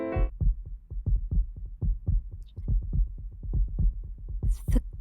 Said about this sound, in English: The galloping heartbeat was back.